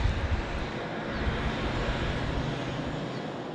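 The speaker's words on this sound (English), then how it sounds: "It is a Jetstar 787." A Jetstar Boeing 787 roars past at Gold Coast airport, a broad loud jet rumble holding steady with some wind noise.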